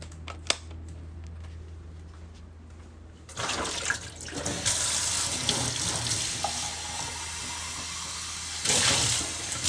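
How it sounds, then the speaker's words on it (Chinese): Water runs from a tap indoors at night, a steady rushing stream starting after a few seconds of quiet handling noises and continuing at a fairly loud level, swelling briefly near the end. "出来倒水"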